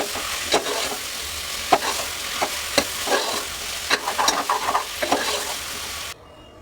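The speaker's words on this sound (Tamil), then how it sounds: "நெக்ஸ்ட் இப்போ மஷ்ரூம் ஆட் பண்ணிக்கலாம்." Mushrooms fry for biryani in a pan, hissing steadily while a spoon stirs and scrapes through them in repeated strokes, close and loud with no voices.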